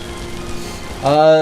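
Steady rain falling in the survival game Vintage Story, a continuous even patter that fills the background before a brief tonal game sound near the end.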